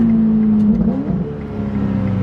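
A Ferrari F8 Tributo engine in sport mode holds a steady, loud drone with a pitch shift near the middle, as if through a gearchange, and carries on without speech.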